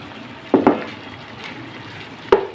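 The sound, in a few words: tomato paste cooking in a pan with fried onions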